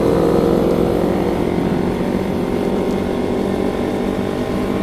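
A Kawasaki Z250 motorcycle engine drones loud and steady on a road as the rider throttles up, a dense continuous roar with no pauses.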